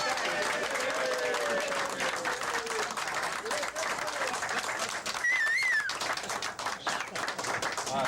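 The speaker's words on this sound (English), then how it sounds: "That's a standing ovation." Crowd giving a standing ovation, loud sustained clapping throughout with whistles and a few shouts rising above it and voices mixed into the din.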